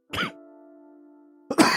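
A man coughs and clears his throat twice, once sharply near the start and again at the end, close to the mic, with a steady low hum between them.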